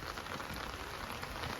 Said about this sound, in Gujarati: હવે તો વરસાદે ચાલુ છે